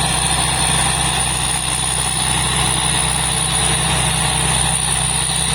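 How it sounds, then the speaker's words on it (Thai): A large combine harvester's JO8C 260 turbo diesel engine runs steadily, a close, loud, continuous droning idle with a deep low rumble and a high whine, no talk over it. "เครื่องยนต์ JO8C นะครับหรือว่า J5 นะครับ260เทอร์โบนะครับ"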